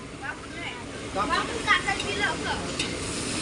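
Onion and tomato sizzle and get stirred in a pan as a chicken dish is prepared, with soft scraping and frying noise running steadily under people talking.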